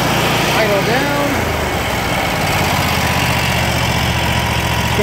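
A Kubota lawn mower engine idles steadily and close by, a continuous even rumble with a brief shift in pitch near the start.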